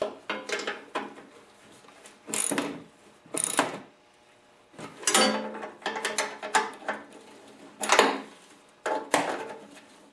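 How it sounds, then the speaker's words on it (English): A wrench works a nut on the auger gearbox of a 4HP Noma snowblower, giving bursts of metallic ratcheting and clanking separated by short pauses, close and fairly loud with no talking. "and with the wrench hold the nut on the other side"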